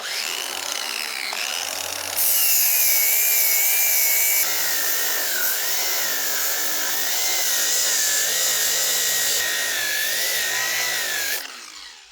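An angle grinder works a metal mounting plate on an engine stand flat, a loud continuous whine with a wavering pitch that runs steadily for about nine seconds before cutting off, with no talk.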